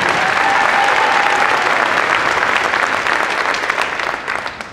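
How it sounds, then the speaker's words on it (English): An audience at a high school winter concert applauds the soloists, a full burst of clapping that holds strong and then thins and fades toward the end. "A round of applause for the soloists."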